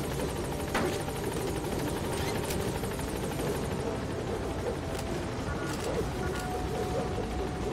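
A helicopter in Metal Gear Solid V: The Phantom Pain thrums steadily throughout, a constant rotor drone at moderate level with faint distant game noises over it.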